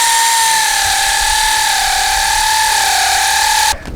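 A power tool, likely an impact wrench, runs steadily and loudly on the clutch bolts of a Ford 3600 tractor, a sustained whine with a slight pitch wobble that cuts off abruptly near the end.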